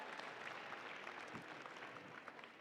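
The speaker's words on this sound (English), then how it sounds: "Let's have one more round of applause for all the teams competing here today." Steady applause from an audience at a robotics tournament fills the space, a dense, even wash of clapping heard at moderate distance with no voices on top.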